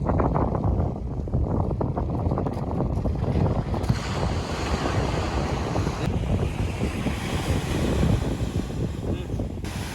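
Strong wind roars steadily against the microphone by the sea, with the wash of surf blended into a constant, loud rush.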